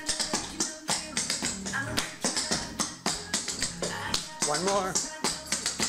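Clogging dance steps tap and stomp on a hard floor in fast, rhythmic clusters over music, with a voice calling out the steps.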